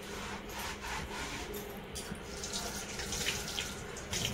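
Steady running water from a kitchen tap while dishes and the sink are scrubbed clean, a continuous moderate splashing hiss with faint clatter.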